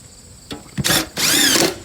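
A power drill drives screws into Boral stone siding during installation, two short whirring bursts close up, the second longer and steadier, with no talking.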